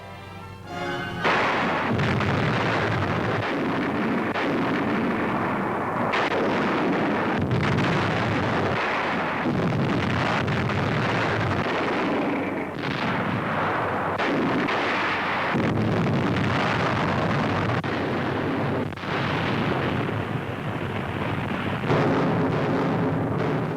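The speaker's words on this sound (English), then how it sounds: "Russian heavy artillery bombards Novorossisk for 4 days and nights" Soviet heavy artillery bombards Novorossisk in 1943, a loud, continuous barrage of overlapping booms and blasts rolling on for the whole stretch, with no voices.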